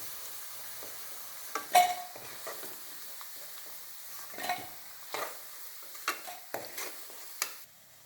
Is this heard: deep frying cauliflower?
yes